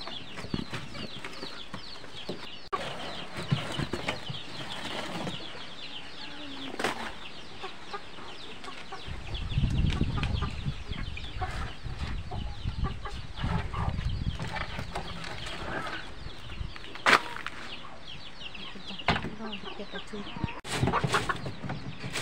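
Chickens cluck and squawk throughout a coop, with a burst of wing flapping and scuffling midway and occasional sharp knocks, while a person talks faintly.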